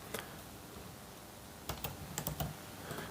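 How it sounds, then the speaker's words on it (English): Quiet, nearby keystrokes on a Mac computer keyboard come in a few brief clusters of clicks over a soft background hiss. "and then start to type again"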